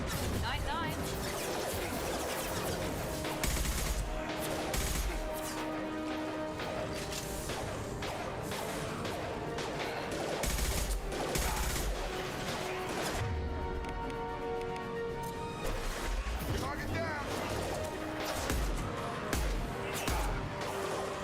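Pistol gunfire in the sci-fi shooter Mass Effect 2: sharp repeated shots and impacts crackle through busy combat effects and music, with a player talking over the action.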